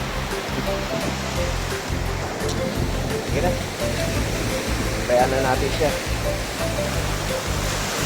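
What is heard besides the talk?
sea waves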